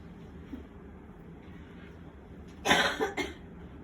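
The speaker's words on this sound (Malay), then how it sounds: "Dah lama ke batuknya ni? Nah, Batuk dah." A person with a long-lasting cough gives a short burst of two or three harsh, close coughs after a stretch of quiet room noise.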